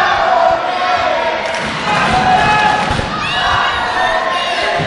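Crowd at a Slammin' for Shriners pro wrestling event calling out and cheering, a loud, continuous mass of shouting voices with some thuds underneath, swelling and dipping over a few seconds.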